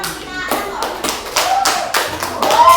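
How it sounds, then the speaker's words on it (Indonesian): A classroom of students claps for a classmate in quick, rhythmic rounds of applause, loud and close, with faint voices mixed in. "Kita beri tepuk tangan buat teman kita Anton."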